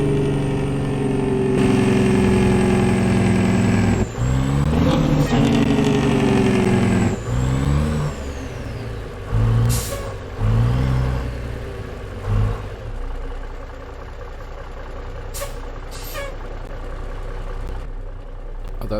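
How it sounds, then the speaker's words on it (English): A heavy truck with a Zeemods Big Cam engine uses its Jake brake in American Truck Simulator, a loud, harmonic engine bark that steps down in pitch in repeated surges, then settles into a lower rumble. "quick Jake brake test. Here's we have a Jake brake."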